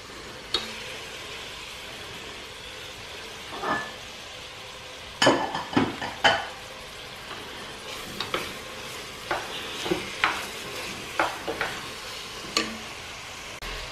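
Meat goes into a hot pan and is stirred, a low sizzle under repeated sharp scrapes and knocks of a spoon against the pan, close by and without talk.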